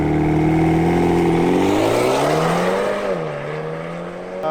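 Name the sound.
BMW M135i with Remus Race exhaust revving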